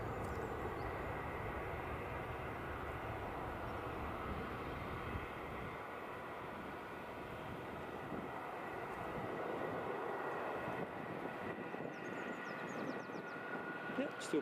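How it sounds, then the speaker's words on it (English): An Embraer jet taking off at Edinburgh airport gives a sustained, wide engine rumble from a moderate distance, easing slightly toward the end, with a voice speaking intermittently. "Early rotation as you would expect from an Embraer."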